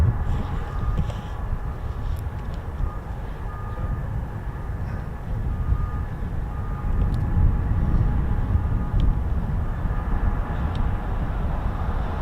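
A C-17 military jet transport passes overhead at an air force base, making a loud, steady, broadband engine roar that holds for the whole stretch without voices.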